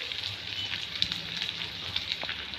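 Curry leaves sizzle in hot frying oil in a home kitchen pan, a soft steady crackle with scattered small pops, close but fairly quiet, no voices.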